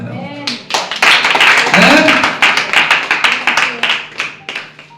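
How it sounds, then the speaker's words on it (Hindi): A church congregation claps along during a Sunday sermon, a dense run of sharp hand claps that grows loud and steady, with a voice calling out over the clapping. "तो ताली बजाओ"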